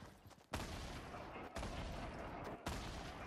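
Gunfire in Fortnite Battle Royale, three loud broadband blasts about a second apart, each followed by a sustained noisy roar, heard with no talk.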